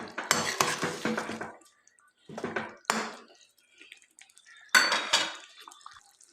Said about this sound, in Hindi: आलू को डाल के एक दफ़ा अच्छे से मसाले में मिक्स कर लीजिए।